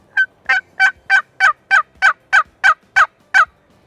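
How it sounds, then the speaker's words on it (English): A turkey box call scraped in a steady series of about eleven sharp yelps, evenly spaced, loud and close against silence. "Hold the base and then run the striker paddle across the top."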